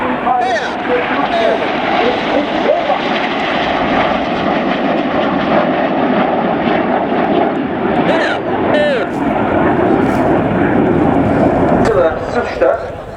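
Red Arrows jets roaring overhead during a formation display at the Royal International Air Tattoo air show, a loud sustained engine rumble with a public-address commentator talking over it.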